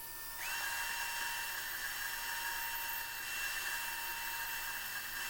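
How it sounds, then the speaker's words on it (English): A bandsaw trims an arc on each wooden board for an Adirondack side table, giving a steady high-pitched whine that starts abruptly and holds level and close throughout, with no talking. "Now just with the bandsaw, and I'm just kind of trimming the arc here"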